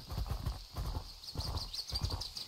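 Horse hooves clip-clop in a rapid trotting rhythm in the online game Mortal Online 2, fairly faint and close, with a faint whinny-like tone drifting above the steady beat.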